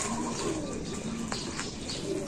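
A six-month-old young pigeon coos softly a couple of times, low rounded notes over a steady hiss of background noise, with no talking.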